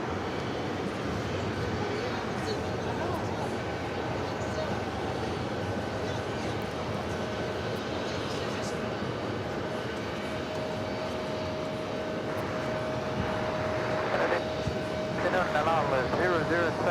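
Etihad Airbus A380 rolling for takeoff at JFK airport, a broad steady jet engine roar that builds slightly toward the end, heard at a distance with a voice talking over it.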